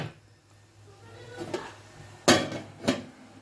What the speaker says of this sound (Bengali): এখন যে ঢাকনা খোলা হয়েছে, মানে বলক উঠছে